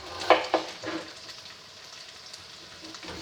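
Potatoes simmer in a lidded pan for a hearty breakfast: a couple of quick stirring clacks up front, then a low, steady bubbling hiss close by.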